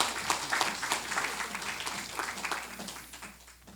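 A church congregation applauding together, a dense patter of clapping that swells early and slowly fades, with a few faint voices underneath.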